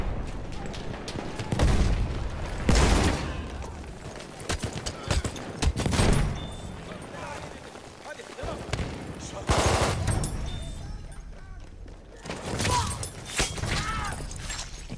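Machine gun fire in the Battlefield 1 video game rattles in loud, repeated bursts with booming impacts between them, mixed with battlefield noise and some voices.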